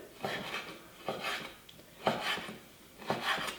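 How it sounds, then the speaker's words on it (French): Knife cutting sun-dried tomato petals into strips on a board for a spaghetti frittata with chorizo: a series of soft, rhythmic scraping cuts, close and moderately quiet, with no talking. "Je vais prendre ensuite 5 tomates séchées, mais 5 pétales de tomates séchées. Je vais les couper en lamelles."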